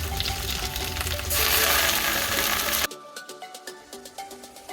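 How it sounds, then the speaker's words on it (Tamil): Agathi spinach greens sautéed with softened onion in a pan, a loud steady sizzle that drops off sharply partway, leaving quieter scattered crackles and stirring taps. "பொழிஞ்சி வச்சுருக்கிற கீரையை போட்டு அதையும் கொஞ்சம் வதக்கிடுவோம்."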